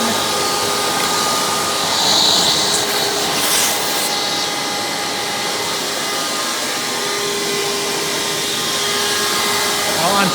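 A Hoover Breathe Easy Caddy Vac U5104-900 upright vacuum runs steadily with a loud, broadband motor roar and airflow hiss, close and continuous throughout, with no talking over it.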